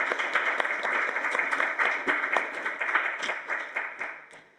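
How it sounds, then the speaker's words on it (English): Applause from a conference audience fills the room, a dense steady patter of many hands clapping that tapers off toward the end, with no voices over it. "everyone was applauding and is looking really delighted"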